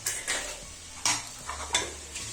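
Pieces of country chicken with ginger garlic paste frying in a pot, with a spoon scraping and stirring in several close, rhythmic strokes over a soft sizzle.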